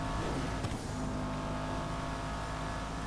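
Cars driving across a bridge in the video game GTA V, a steady low engine drone with a passing vehicle swell early on, moderately quiet and continuous with no talk.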